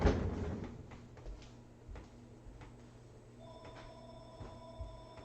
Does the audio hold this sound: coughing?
no